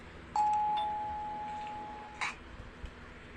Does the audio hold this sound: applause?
no